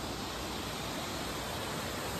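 Silver Falls waterfall in Kodaikanal, a steady, dense roar of falling water that fills the whole clip with unbroken broadband rush, close and loud, with no voices.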